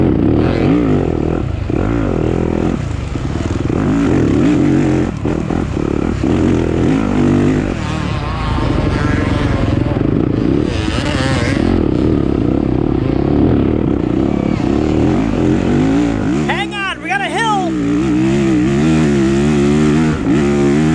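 A stock Yamaha YZ250F dirt bike revs hard through a harescramble race, its engine loud and continuous with rising and falling pitch as gears shift, and a brief burst of clatter around the middle.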